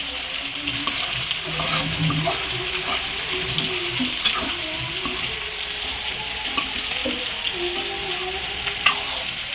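Ginger paste fries in a pan of gongura chicken with a steady crackling sizzle, broken by a few sharp clinks and scrapes as it is stirred, and no talking.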